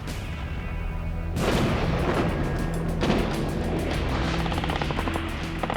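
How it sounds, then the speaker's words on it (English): A heavy military bombardment rumbles as a sound effect: after a quieter opening, a dense roar of artillery blasts and booms swells suddenly and keeps pounding, loud and continuous, with no voices. "First, the heavy bombardment."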